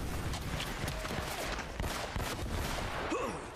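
Rapid gunfire crackles through a shootout in the action game Uncharted: Drake's Fortune, a quiet but steady run of sharp overlapping shots and bursts with a faint metallic whine near the end.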